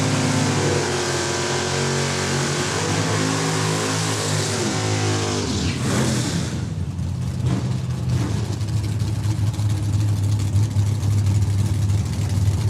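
Drag racing cars at Saskatchewan International Raceway in Saskatoon, a Chevy Camaro and an Oldsmobile, roar loudly and continuously with engine drone and a rising rev as a pair launches down the strip, no talk over it.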